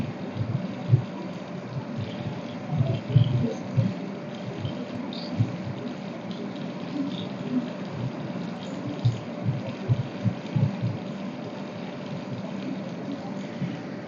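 Water runs and splashes steadily close by, with irregular sloshing and scrubbing sounds as something is washed by hand.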